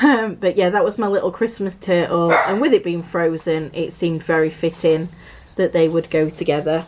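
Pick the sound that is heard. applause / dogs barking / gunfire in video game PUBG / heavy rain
dogs barking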